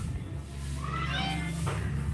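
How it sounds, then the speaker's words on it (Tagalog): A pet cat gives a single drawn-out meow close by, rising and falling over a steady low household hum. "Ayan po ang aking pusa."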